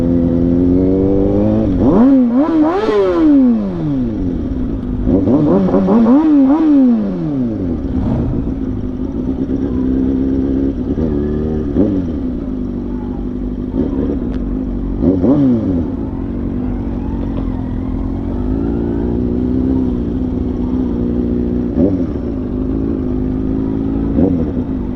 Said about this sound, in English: I got the Harley and the bike and my bike in the back. They're all rolling into the brewery.